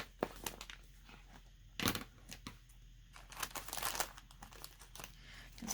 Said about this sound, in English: I'm gonna just cut the bag.